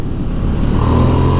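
A Ducati XDiavel S motorcycle roars steadily and loudly under open throttle on the road, a dense continuous engine drone with a slight rise in pitch toward the end.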